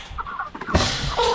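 Chickens cluck close by on a farm during processing day, with a few short, rough bursts of clucking and squawking packed into a brief moment.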